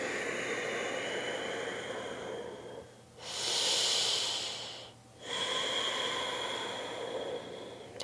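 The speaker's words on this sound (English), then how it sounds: "Breathing deeply." Deep breathing during a yoga flow, with long steady airy breaths broken by a louder, brighter inhale-exhale swell in the middle, close and alone without speech.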